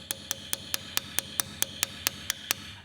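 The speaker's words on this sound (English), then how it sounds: "I made a simple chisel from spring steel in a mild steel handle." Spring steel hand chisel set in a mild steel handle, cutting metal by hand. A steady series of about a dozen sharp, bright clicks comes in an even, quick rhythm, close and clear over a faint background.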